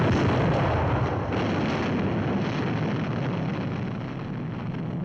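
A bomb goes off in the 1959 film The Mouse That Roared, a loud blast followed by a heavy, rolling rumble that holds for several seconds before slowly easing.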